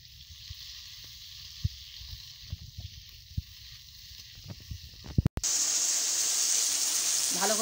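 Potatoes sautéing in hot oil for a meat curry give a steady sizzle, at first lower with scattered pops and crackles, then jumping abruptly to a loud, dense, bright frying hiss that continues to the end.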